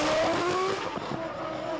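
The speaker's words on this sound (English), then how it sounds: "Ralf Schumacher has been setting the streets of Stuttgart ringing with a scream of the BMW engine" A Williams Formula One car with a BMW engine races through city streets, its high-pitched scream rising then fading as it passes, loud and alone.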